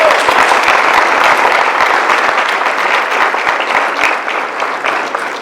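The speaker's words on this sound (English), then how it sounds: "Please give him a big round of applause." A keynote audience gives the head football coach a big round of applause: loud, continuous clapping from many hands, sustained throughout and easing slightly near the end.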